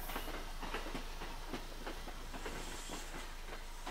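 A Kintetsu out-of-service electric train pulls out of Nabari depot in the early morning, heard from a distance as a low steady rumble with faint rhythmic wheel clatter and a continuous hum, no voices.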